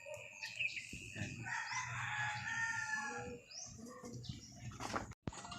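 A rooster crows loudly and at length in a racing pigeon loft, with other fowl clucking and chirping around it, followed by a brief sharp knock near the end.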